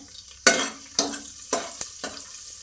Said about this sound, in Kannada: ಶುಂಠಿ ಮತ್ತು ಬೆಳ್ಳುಳ್ಳಿ ಆ್ಯಡ್ ಮಾಡ್ತೀನಿ ಶುಂಠಿನ ತುದ್ದಿಡ್ಕೊಳ್ಳಿ ಓಕೆನಾ ಸ್ವಲ್ಪ ಚೆನ್ನಾಗಿ ಫ್ರೈ ಮಾಡ್ಕೊಳ್ಳಿ